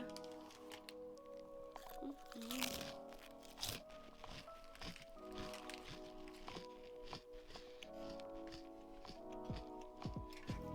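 Someone eats garden veggie Ritz chips, with sharp close crunches and crackles scattered irregularly over faint background noise and a few soft mouth sounds.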